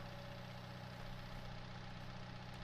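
A skid steer engine idles steadily in Farming Simulator 19, a continuous low mechanical drone with no talk over it.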